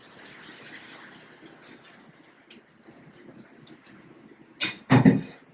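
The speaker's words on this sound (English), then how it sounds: "And then we're gonna drain the potatoes." Boiled potatoes drained of their cooking water, with a faint hiss at first, then a brief loud gush of water pouring out for about a second near the end.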